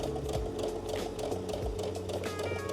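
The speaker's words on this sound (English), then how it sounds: "Top stitch along the pocket seam line." A sewing machine top-stitches along the pocket seam of a linen dress, running in one steady, close mechanical whir with a rapid needle rhythm for the whole stretch and no talk.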